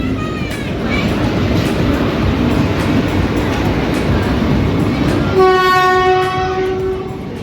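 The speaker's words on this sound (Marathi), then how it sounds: "12716 अमृतसर नांदेड सचखंड एक्सप्रेस क्रॉसिंग होत आहे सध्या" The 12716 Amritsar Nanded Sachkhand Express crosses nearby with a loud, steady rail rumble and clatter, then a long, sustained train horn sounds over it near the end.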